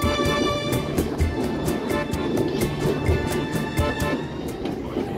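A Mumbai harbour line local train pulls away from Masjid Bunder station, a steady close rumble of wheels and carriages with rhythmic clacking and faint metallic squeal throughout, no voices.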